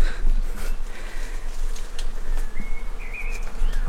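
A faint, diffuse buzz of bees swarming in trees around a decaying abandoned site, a soft continuous drone under outdoor ambience with occasional higher chirps.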